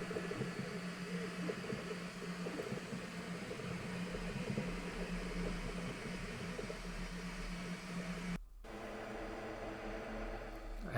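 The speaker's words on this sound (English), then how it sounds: "I have my 3D printer inside an enclosure to keep the fumes contained" A 3D printer runs inside a fume enclosure as it finishes a print, giving a continuous mechanical whir with a steady low hum and a brief dropout near the end.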